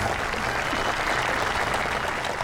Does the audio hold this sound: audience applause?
yes